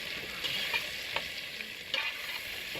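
Onions fry in a pan over a campfire, a faint steady sizzle with a few soft scrapes of stirring, heard alone and close.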